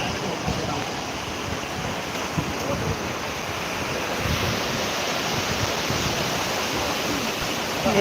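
Ocean waves at high tide in the Digha estuary make a steady, continuous roar of surf, mixed with wind rushing against the microphone, with no clear breaks.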